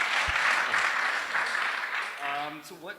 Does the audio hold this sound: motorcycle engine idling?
no